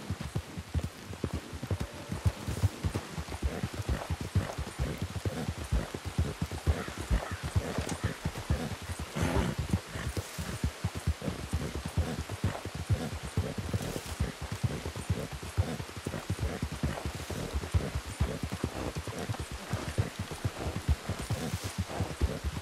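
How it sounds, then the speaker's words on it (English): Rain falls steadily in the Red Dead Redemption 2 game world, patter spread across surfaces, mixed with the rhythmic clip-clop of horse hooves throughout, faint and continuous with no talking. "Plus, it's raining."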